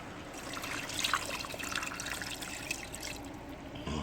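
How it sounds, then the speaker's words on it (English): Water pours steadily into a pot, a continuous trickling splash with small bubbling shifts, close and fairly quiet. "Now I want to add some water."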